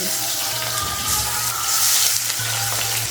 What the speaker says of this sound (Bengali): এখন আমি মাছগুলো ভেজে নেব তার জন্য একটা কড়াইতে দিয়ে দিলাম সাদা তেল